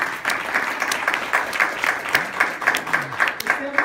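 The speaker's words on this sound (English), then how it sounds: "if we could give them a round of applause" An audience at a meeting applauds volunteers with steady, dense clapping that fills the whole stretch at a fairly loud level, without any talking over it.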